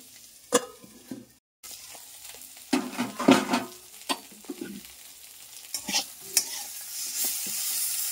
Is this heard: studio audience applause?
no